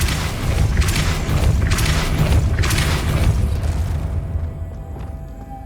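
Depulso spell effect in Hogwarts Legacy: a deep booming blast with rolling, swelling force bursts over a low rumble, fading away into near silence at the end.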